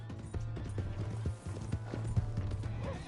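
Horse hooves clip-clopping in the video game Red Dead Redemption, a steady rhythmic trot of clear close hoofbeats with a brief pause midway, over quiet background ambience.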